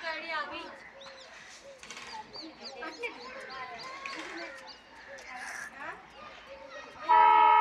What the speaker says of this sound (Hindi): अजमेर से जयपुर जाती है यह ट्रेन,